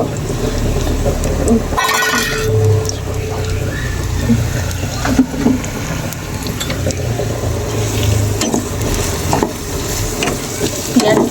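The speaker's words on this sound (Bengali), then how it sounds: "যতক্ষণ পেঁয়াজটা লাল লাল হয়ে না ভাজা হচ্ছে" Sliced onions fry in oil over a high gas flame for biryani beresta, a loud, dense sizzle with occasional stirring scrapes and knocks throughout, close and continuous.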